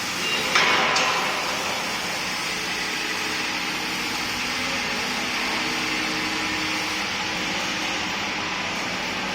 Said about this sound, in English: Here is the hollow machines for plastic pipe like PVC pipe and